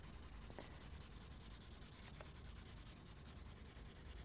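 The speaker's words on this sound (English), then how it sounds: "I'm going to quickly put down our graphite pencil." A graphite pencil writes on paper up close, giving a continuous soft scratching and rubbing texture of steady strokes with no talking.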